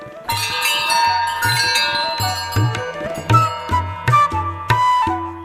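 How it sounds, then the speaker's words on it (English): Bell at Ulagalla Resort in Anuradhapura, Sri Lanka, rung repeatedly to announce a guest, bright metallic clangs in an uneven run of strikes with ringing overtones, loud and close. "Please ring the bell."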